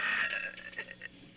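An old-style telephone bell rings briefly with a bright metallic trill that fades out within a second or so.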